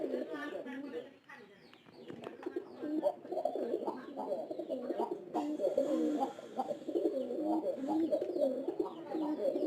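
Several pigeons kept for sale coo steadily and close by in a hot loft, overlapping throughout, while someone talks over them at times.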